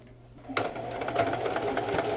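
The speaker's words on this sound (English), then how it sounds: "now I'm going to sew the crochet blanket to the sweatshirt fabric" Sewing machine stitching a crochet blanket onto sweatshirt fabric, a steady close mechanical whir that starts abruptly after a brief quiet moment and runs continuously to the end.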